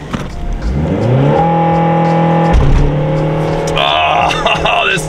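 An AWD diesel Toyota Corolla launches on snow, the engine rising in pitch through a gear, dropping, then climbing hard again, loud and close.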